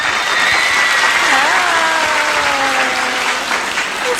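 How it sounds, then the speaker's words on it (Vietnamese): A crowd gives a sustained round of applause for a translator, many hands clapping in a thick, even roar, with a faint voice or tonal sound gliding briefly over the clapping. "Chúng ta một tràng vỗ tay cho cô Trang ạ."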